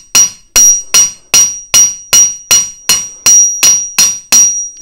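Eleven evenly spaced cross-peen hammer blows ring sharply on jewelry metal, each strike loud and close with a bright metallic ping and a short decay, no voices.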